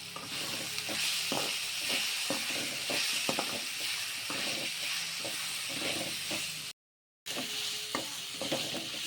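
Chopped tomato sautéing with onion, ginger and garlic in a pan for a prawn curry, giving a steady frying hiss with frequent spoon scrapes and stirring knocks, close and continuous, with one brief dropout.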